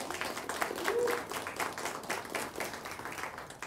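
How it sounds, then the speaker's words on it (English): An audience at a Teacher of the Year ceremony gives a round of applause, steady crowd clapping with a rhythmic, textured patter that holds across the whole span, moderately loud and without talk over it. "Let's give them one more round of applause."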